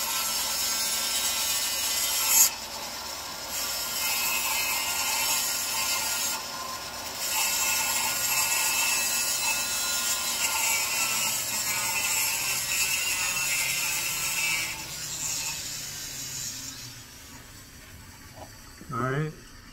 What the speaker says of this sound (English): It gets hot, especially when you're filing down the middle.